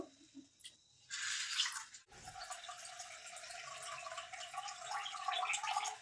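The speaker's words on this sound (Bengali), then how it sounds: "তো আরও একবার ধুয়ে নেব" Sabudana (tapioca pearls) being rinsed in a bowl with water: a short splash, then steady close sloshing and running water that continues to the end, with no talking.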